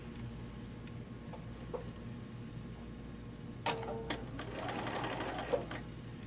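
A sewing machine stitches a short quilt tack on a three-yard quilt, running in a steady mechanical whir that picks up into a louder, denser burst of stitching partway through, with faint clicks.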